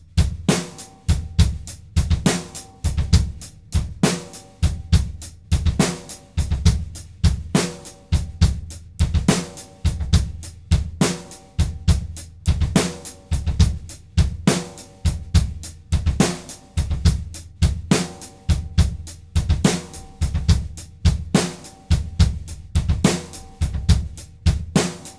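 Slow drumset beat in a triplet feel, with quick groups of three bass drum notes and sharp cymbal and snare hits, repeating evenly and played alone.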